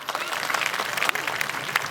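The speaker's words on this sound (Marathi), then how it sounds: "एकदा दोन्ही हात उलगून टाळ्या वाजवा" Scattered hand clapping from a crowd at a live stage show in Shindkheda, Dhule, uneven and moderately loud, with a few sharper claps standing out.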